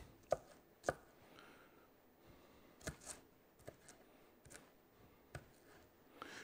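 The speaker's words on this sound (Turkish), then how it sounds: "Soğanımızı şöyle güzel bir kıyalım." A knife chopping an onion on a board in a home kitchen: a few faint, scattered cuts with irregular pauses between them.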